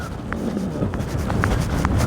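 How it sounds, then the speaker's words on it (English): Steady wind buffeting the microphone on the Pennine Way, a constant low rumble with gusty swells and a few faint knocks, no voices. "it is really windy"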